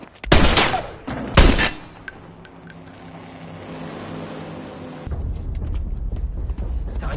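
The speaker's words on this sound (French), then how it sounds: "Soudain, ils entendent un coup de feu" Two loud, sharp gunshots ring out close together in a film scene, followed by a low, steady rumbling drone that swells again near the end.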